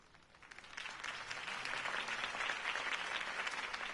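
A crowd applauds after a campaign speech, the dense clapping swelling from moderate to full and holding steady across the stretch, with no voices over it.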